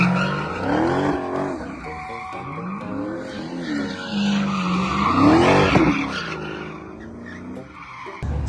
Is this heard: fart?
no